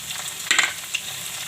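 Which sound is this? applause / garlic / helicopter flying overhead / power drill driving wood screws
garlic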